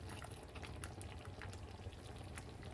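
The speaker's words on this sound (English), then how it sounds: "Let the jam simmer for 10 more minutes." Plum jam with walnuts simmers in a pot, giving a soft, steady bubbling with faint pops throughout. The sound is quiet and continuous.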